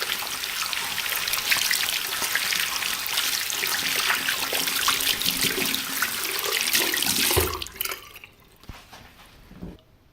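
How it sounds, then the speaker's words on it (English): Running water from a tap splashes steadily as hands are washed with soap beneath it, a bright continuous hiss that cuts off near the end, leaving a few faint drips and handling noises. "Now, I'm washing my hands with soap under the running tap."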